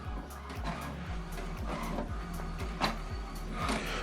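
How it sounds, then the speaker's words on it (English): An HP Deskjet All-in-One inkjet printer prints its alignment page with a rhythmic run of mechanical passes. The print head shuttles and the feed motor whirs and clicks steadily, close up and without talk. "So what it's doing now, what is printing is alignment."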